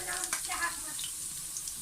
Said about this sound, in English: Now make it fry until it makes the color brown.